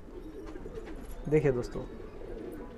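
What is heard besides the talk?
desi high flyer pigeons cooing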